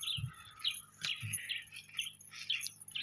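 Birds chirp and tweet repeatedly in short bright calls during an evening walk in a Maasai village in Kenya, Africa, with a few low thumps like footsteps underneath.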